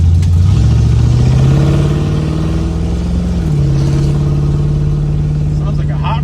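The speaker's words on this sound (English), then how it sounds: "Sounds like a hot rod, man." A 1967 Ford Mustang engine rumbles loud and close, climbing in pitch as it revs, holding, then dropping slightly to a steady throaty growl.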